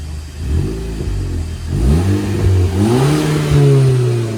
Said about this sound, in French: On monte dans les tours, on l'entend bien.